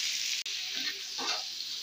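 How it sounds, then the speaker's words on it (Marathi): Three small finely chopped onions dropped into hot oil on a tawa, a bright, steady close sizzle with a short gap and swelling bursts of frying as they settle. "आता त्याच्यात मी छोटे छोटे 3 कांदे बारीक कट करून घेतलेले आहेत, तर ते मी आता तव्यावर टाकून घेणार आहे।"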